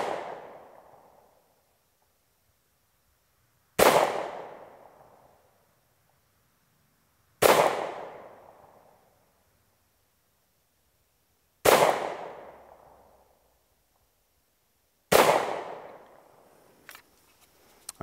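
A SAR USA K2 .45 pistol fires 230 grain Federal HST rounds: five loud, sharp shots spaced a few seconds apart, each decaying into a short echo outdoors.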